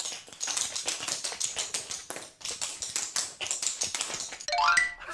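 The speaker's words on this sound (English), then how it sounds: "These are really special dancing shoes because they've got metal bits on the" Tap dancing shoes with metal plates on the soles strike the floor in a quick, bright run of clicks. They tap in irregular rhythmic bursts, then give way to a short ringing chime at the end.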